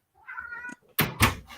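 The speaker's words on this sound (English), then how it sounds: "And the cat says no." A cat gives a short, clear, close meow, followed by two sharp knocks like a door thumping.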